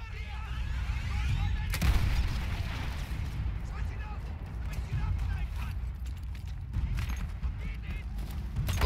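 Artillery shells blast in Battlefield 1 amid dense battlefield noise, a heavy near boom landing around two seconds with further rumbling detonations and gunfire rolling on continuously; voices speak over the din.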